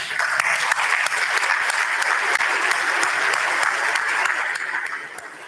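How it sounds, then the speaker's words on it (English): A funeral audience stands and gives one final round of applause, loud and steady for about five seconds before it starts to fade. "I'd like you all to stand, please, for one final applause for Scott for a life well lived."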